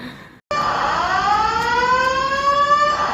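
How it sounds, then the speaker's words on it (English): A fire alarm siren blares loudly and steadily inside an airport terminal, a continuous rising electronic tone that starts abruptly after a brief silence and holds without pause. "So the fire alarm is still going off as I record this."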